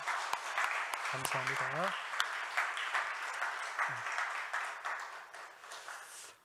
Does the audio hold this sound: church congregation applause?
yes